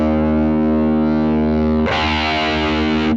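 JHS PackRat distortion pedal in its original Rat mode, a loud, saturated, buzzing guitar tone sustaining alone, then a fresh hit midway with brighter, harsher fizz as the filter is changed.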